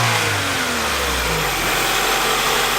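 A Honda car engine with an OBD1 ECU and an idle surge fault revs hard, then its pitch sweeps down as the idle falls back, loud and close with no talking.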